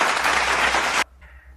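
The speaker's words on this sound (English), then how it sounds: "Can we give her a round of applause" A class applauds with dense, steady clapping that stops abruptly, followed by a faint voice in the quiet after.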